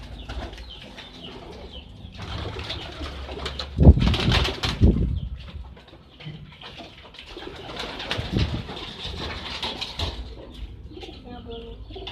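Birds, likely pigeons or doves, are heard cooing and flapping in an outdoor setting. The calls come in intermittent bursts, with a louder flurry around the middle, and a person speaks briefly in the background.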